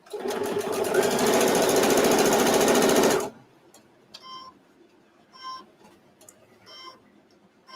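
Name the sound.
sewing machine stitching fabric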